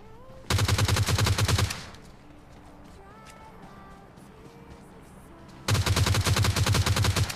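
Gunfire in a PUBG Mobile Lite fight: two loud bursts of rapid automatic shots, each lasting over a second, separated by a quieter stretch of game ambience.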